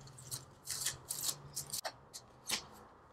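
Tarot cards being shuffled during a love reading, giving quiet, uneven bursts of papery riffling and soft flicks, with short pauses between them and no talking.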